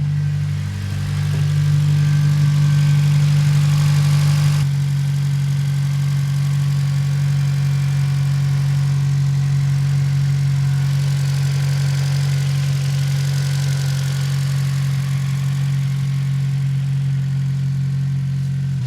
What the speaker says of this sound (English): I did notice the car is starting to tick a little bit more, like that ticking sound